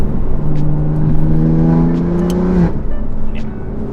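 A BMW M4 with a Varis widebody kit blips its engine on a downshift, a loud nearby rev whose pitch climbs and then drops away sharply, followed by a steady engine drone.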